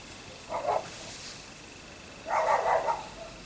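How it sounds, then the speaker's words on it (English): Two dogs bark from the house next door, heard faintly at a distance: a short bark, a pause, then a longer flurry of barks over a quiet indoor room tone. "Oops, there go the dogs again."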